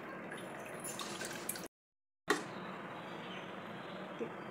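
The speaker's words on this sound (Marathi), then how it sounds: "पाणी निथरायला ठेवून द्यायचे." Water drains and drips from rinsed poha sitting in a kitchen strainer, a steady close trickle and patter that breaks off briefly and then resumes.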